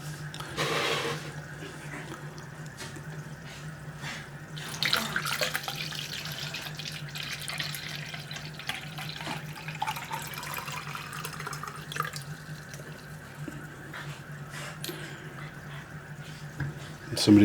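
Salt water pours steadily into a Ziss ZH-700 brine shrimp hatcher, a continuous trickling and splashing flow that swells and eases over about seventeen seconds, close and moderately loud.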